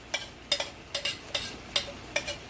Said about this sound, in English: we're going to take the onions that we sauteed and we're going to add them to the ground beef